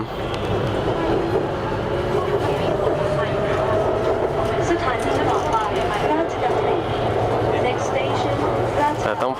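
Inside a moving train heading toward the end of the line, a continuous loud rumble and rattle carries on throughout, with speech-like sound mixed in the background.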